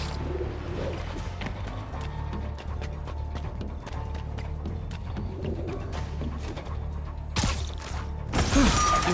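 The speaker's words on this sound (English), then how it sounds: "One of Howard's pigeons" Soft, repeated cooing of a pigeon in the open-world game Marvel's Spider-Man Remastered, set against a steady low city ambience, with a burst of rustling noise near the end.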